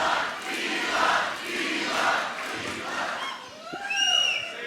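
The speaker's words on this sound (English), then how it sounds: "I'm guessing this is a pro-Elon crowd somehow" A crowd of Elon Musk supporters at an evening rally, loud sustained cheering and yelling that swells and falls, with whoops and whistles rising near the end.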